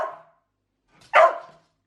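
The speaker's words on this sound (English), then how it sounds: "Boris, he's a very excitable dog," An excitable dog gives two sharp, close barks, a short one followed after a pause by a louder, fuller one, in otherwise quiet surroundings.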